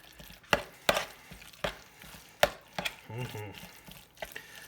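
Buffalo chicken dip being stirred and mashed in a bowl, with a run of soft, irregular thuds and scrapes close by and no talking.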